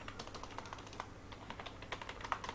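Fingers type steadily on a computer keyboard while text is entered in a word processor, producing quiet, close, irregular clicks in short bursts with no voice over them.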